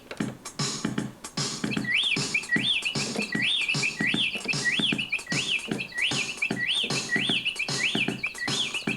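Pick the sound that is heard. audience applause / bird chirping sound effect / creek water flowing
bird chirping sound effect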